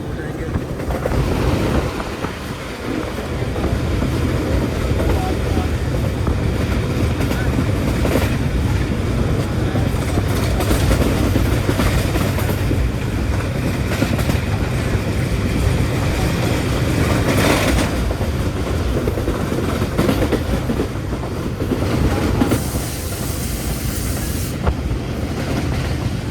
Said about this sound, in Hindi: कुछ इस तरह की स्पीड में ट्रेन हमारी आगे बढ़ रही है